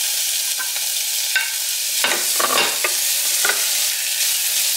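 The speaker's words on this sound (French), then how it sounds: "les oignons ils vont bien dorés" Onions browning in a frying pan give a steady close sizzle, with a few brief scrapes and stirring clatters breaking through midway; no one speaks.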